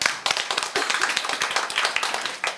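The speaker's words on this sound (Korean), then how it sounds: "박수 한번 할까요?" A church congregation claps during a Sunday worship service, a run of quick, fairly even claps that sound close and crisp, with no speech over them.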